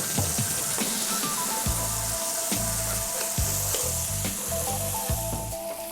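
Pork with black pepper sizzles steadily in a pan over medium heat, a constant frying hiss broken by the rhythmic scrape and knock of stirring.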